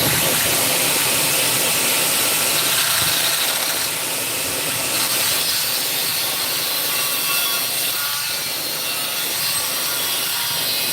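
A broken steel sword blade being cut before forging, with a loud, steady, continuous grinding roar from a power cutting tool close by for the whole stretch.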